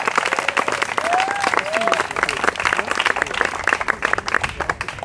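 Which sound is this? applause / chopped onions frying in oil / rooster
applause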